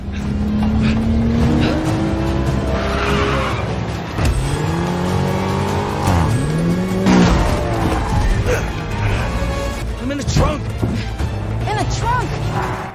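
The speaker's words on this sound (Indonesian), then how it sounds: "Kemudian disusul oleh si pembeli yang mengejar Javier dengan menggunakan mobil yang di dalam bagasinya ada Mike." A film car chase with engines revving and roaring close by, rising and falling pitch as cars accelerate, tire squeals and a sharp impact midway, with voices speaking over the action throughout.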